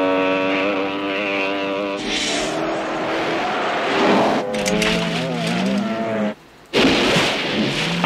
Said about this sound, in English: That car is going through a beating, bro.